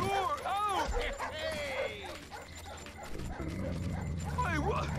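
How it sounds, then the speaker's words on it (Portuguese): Sharp, yelping dog barks from a pack of fierce dogs in the Up! video game come in quick bursts, mixed with game effects and other sounds, close and fairly loud. "Eles latindo."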